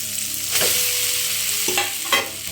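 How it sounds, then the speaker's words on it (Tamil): Rice tossed and stir-fried in a hot pan with sautéed vegetables for hotel-style fried rice, a steady close sizzle broken by several scraping stirs of the spatula, with no talking. "ரைஸை போட்டு வதக்கிக்கலாம்."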